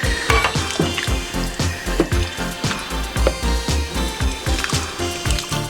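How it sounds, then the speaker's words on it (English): Vegetable soup stirred in a very large pot, a steady run of rhythmic sloshing, thudding strokes about every half second, close and fairly loud with no voices. "So you're going to stir everything together."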